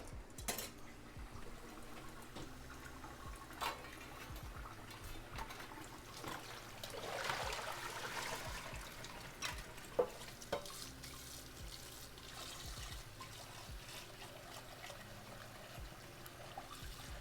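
Boiled potatoes strained in a kitchen, water trickling and draining steadily with scattered clinks of cutlery and pans and a brief louder rush of pouring in the middle.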